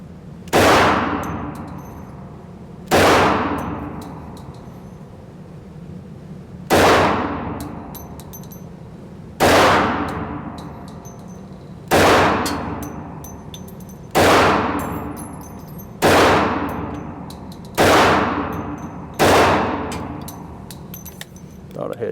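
A Hi-Point 1095ts 10mm carbine fired at an outdoor range from 15 yards, nine loud, sharp shots spaced about two to three seconds apart, each ringing out briefly with a faint metallic clink.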